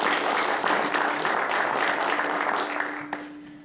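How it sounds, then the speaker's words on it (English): Audience in Ottawa applauding to welcome a speaker, a sustained, even round of clapping that holds steady for about three seconds before thinning and fading out, with a low tone humming underneath. "The applause actually represents that they're getting warmed up, not really a sign of popularity."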